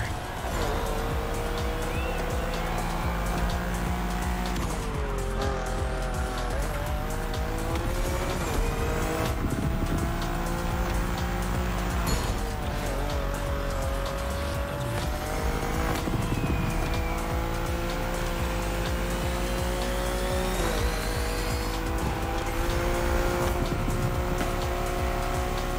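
BMW with a Liberty Walk widebody kit, side skirts and riveted wide fenders, driven in a racing video game: continuous loud engine roar with rising and falling revs, repeated gear shifts and tire squeal through corners, with music or effects underneath.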